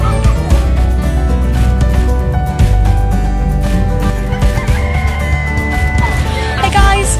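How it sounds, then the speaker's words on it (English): Chickens and other fowl clucking and squawking at a farmers' show, a busy, loud chorus of bird calls over crowd and farmyard noise. "Chickens."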